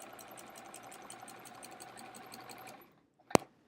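Sewing machine stitching through a large quilt, a steady whirring mechanical hum with rapid rhythmic needle ticking that stops near the end, followed by a single sharp click.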